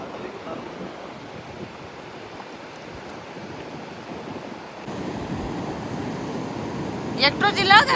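Surf rolling onto a beach on the Konkan coast near Malvan, a steady broad wash of waves mixed with wind buffeting the microphone, swelling slightly louder partway through, with brief sharper sounds near the end.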